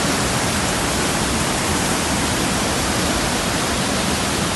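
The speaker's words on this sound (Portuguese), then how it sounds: "ó, a cachoeira." A waterfall on the Rio das Almas roars continuously, a dense, loud, unbroken rush of falling water heard up close with no other sounds.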